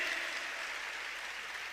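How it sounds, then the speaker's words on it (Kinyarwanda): A church congregation applauds God, a faint, steady wash of many hands clapping together that sounds distant and continuous throughout. "Ababyumva neza muha Imana amashyi."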